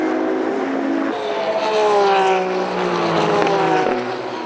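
GT race cars roar past at Brands Hatch, loud engines rising and falling in pitch as they sweep by one after another, with a commentator faintly under the noise.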